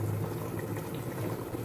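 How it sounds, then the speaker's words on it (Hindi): Water boiling in a pot for beef kofta curry, a steady close bubbling and rumbling roar throughout with no talk. "पानी जो है बॉईल हो रहा है।"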